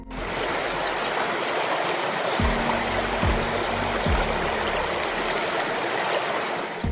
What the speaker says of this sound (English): The sound of water hitting the rocks spreads through the forest, creating a powerful and isolated atmosphere.